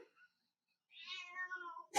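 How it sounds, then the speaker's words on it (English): A cat meows once in a drawn-out, wavering call lasting nearly a second, close and clear in a quiet room, followed by an abrupt loud noise at the very end. "She meowed like twice."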